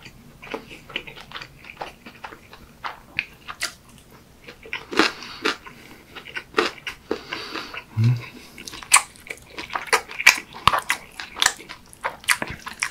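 Close, crisp bites and chewing of tuna gimbap, seaweed-wrapped rice rolls, heard as repeated crunches and soft wet mouth sounds alone in a quiet room.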